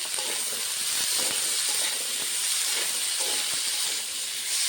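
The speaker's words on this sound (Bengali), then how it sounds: "আলুর মধ্যে স্বাদ মতো নুন পরিমাণ মতো হলুদ গুঁড়ো দিয়ে ভালো করে ভেজে নেব" Potatoes frying in a pan with salt and turmeric, giving a steady loud hiss and sizzle throughout with faint scattered clicks underneath.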